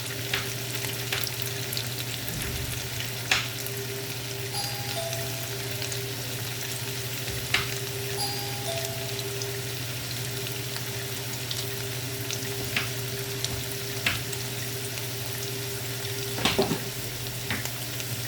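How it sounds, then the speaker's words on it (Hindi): Potatoes frying in a pan with a steady, even sizzle that runs throughout, close and fairly loud, broken by occasional stirring clicks and light taps, no voices. "आलू मेरे भुन रहे,"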